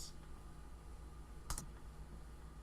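A single crisp key press on an Asus VivoBook 13.3-inch touch-screen laptop keyboard snaps sharply and close, set in an otherwise quiet, faintly humming room.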